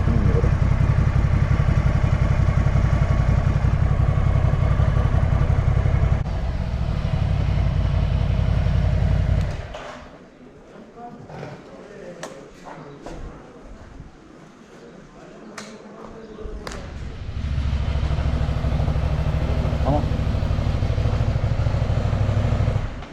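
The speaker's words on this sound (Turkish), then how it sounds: "Motor hopluyor zaten bak." Ducati Scrambler motorcycle engine while riding, a loud steady engine roar that drops away for several seconds and then returns, with someone talking over it.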